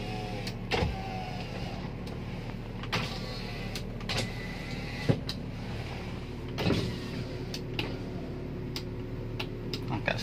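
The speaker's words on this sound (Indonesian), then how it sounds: "Power windows-nya ya." Power windows on a Toyota Avanza car run with a faint motor whir inside the cabin, broken by scattered clicks and ticks, quiet with no talking.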